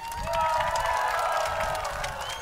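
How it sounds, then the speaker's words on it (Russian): Audience at an eco-festival talk by a transport designer cheers and applauds, a dense crowd roar with whistling tones and shouts holding steady across two and a half seconds. "Ваши аплодисменты!"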